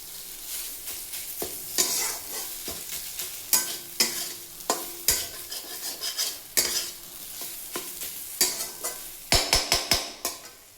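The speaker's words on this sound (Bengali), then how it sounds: "এরপরে নারকেলটা দিয়ে দেবেন। মশলা দিয়ে ভালো করে কষাবেন।" Spice paste and grated coconut being sautéed in a pan while a spoon stirs, giving a steady low sizzle with repeated scraping clinks against the metal, fairly close and with no talking.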